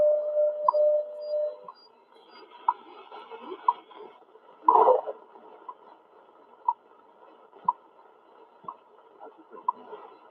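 WWV time signal ticks received on a Realistic DX-66 shortwave radio: faint, regular clicks about once a second over a hissy, noisy band with a steady tone early on and a brief louder burst midway.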